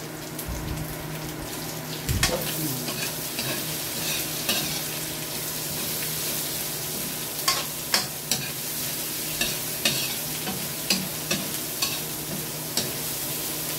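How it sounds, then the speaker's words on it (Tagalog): Garlic, onion and squid balls sautéing in a pan for pancit bihon, a steady close sizzle with scraping stirs and occasional sharp utensil clinks against the pan, no voices. "Kapag okay na po yung ginigisang bawang at sibuyas na may squid ball"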